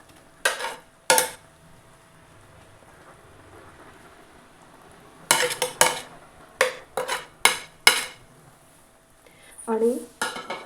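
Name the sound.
adding fried eggs into pot of egg biryani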